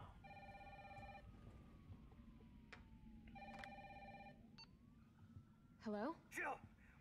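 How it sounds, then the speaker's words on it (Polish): A telephone rings twice in the Resident Evil 3 (2020) video game, with electronic bell-like trills over a low game ambience, followed by brief voice-like sounds near the end. "Dobra, chodźmy odebrać telefon."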